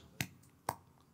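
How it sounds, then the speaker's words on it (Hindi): Two sharp hand claps about half a second apart, crisp and close, during devotional bhajan singing, with nothing else heard between them. "ऐसे ताली बज रही है"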